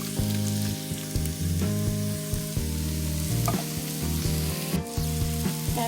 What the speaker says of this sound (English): So now I'm going to go ahead and add my diced tomatoes in.